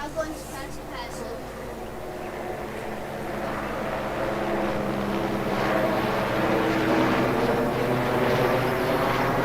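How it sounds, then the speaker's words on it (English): Helicopter in a Farming Simulator game, a continuous rotor and engine drone that builds gradually louder through the clip, heard under a person talking. "Chase that helicopter."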